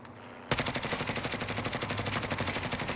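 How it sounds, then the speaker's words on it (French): Rapid automatic gunfire from the video game Call of Duty Warzone bursts in after a brief quiet moment and continues as a dense, loud, rattling stream of shots. "Il y a un sniper qui me tire dessus."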